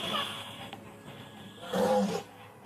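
A lion from a pride roars at night in the distance, a low rumbling call swelling near the end over quiet background.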